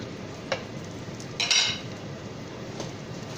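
Salmon fillets sear in a pan with garlic, giving a steady, close sizzle broken by a few brief clinks and stirring scrapes.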